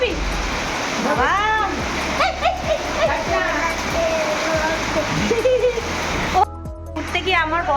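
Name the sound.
water on the ground after a heavy rainstorm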